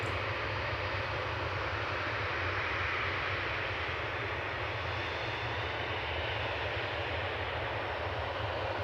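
A Ryanair Boeing 737-800 at Manchester Airport produces a steady, broad engine roar that holds evenly throughout at moderate loudness with no voices.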